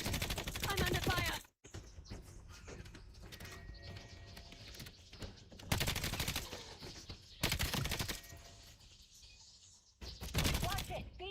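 Call of Duty gunfire crackles in dense bursts of rapid automatic shots, loud and close, broken by short pauses and mixed with game effects and background chatter.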